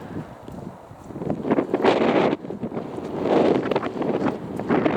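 Breezy wind buffets the microphone outdoors during a walk, gusting in uneven rumbling waves that rise and fall throughout.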